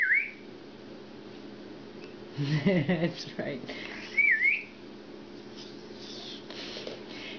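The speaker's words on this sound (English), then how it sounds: "whistle for the doggies." A person whistles to call dogs, two short rising-and-falling whistled notes, one at the start and another midway, with a voice and adult talk in between over quiet indoor background.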